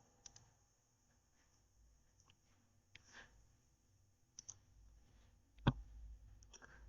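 A computer mouse gives one sharp, close click on a create button, preceded by a few faint, scattered taps in an otherwise quiet room.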